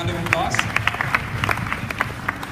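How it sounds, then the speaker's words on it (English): Scattered hand claps from an audience at a company convention, sharp irregular claps over a murmuring crowd with voices mixed in. "can we give them a round of applause?"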